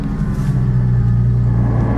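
A Porsche Cayman GT4's 3.8-litre flat-six engine runs close by with a steady, low, humming idle, even and unbroken throughout.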